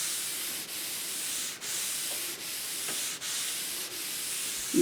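Steady scrubbing of a kitchen counter with cleaning paste, close and continuous with a rhythmic back-and-forth rubbing broken by short pauses roughly every second, no voices present.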